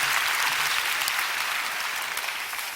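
Audience applause at a prayer gathering, dense and steady clapping from a crowd that fills the room, loud and close, slowly tapering slightly toward the end.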